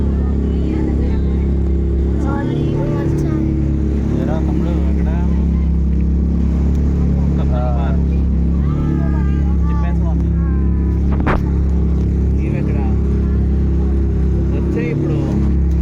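Seated aboard a motorboat on a lake, a steady close engine drone and water rush persist throughout while passengers chat over the motor.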